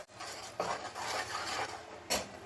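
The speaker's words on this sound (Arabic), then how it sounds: "نقلبه كله مع بعض كده اهو" A spoon scrapes and clinks around a pot while stirring a sesame halawa mixture, a few sharp knocks breaking up a steady gritty scraping, close and clear with no talk.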